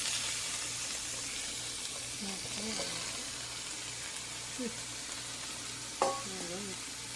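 Mushrooms go into a frying pan with green leafy vegetables, and a steady, quiet sizzle carries throughout, with a short clatter near the end.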